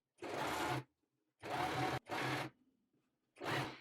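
A sewing machine stitches a seam in four short bursts, each a dense, fast mechanical whirr, separated by brief pauses of near silence.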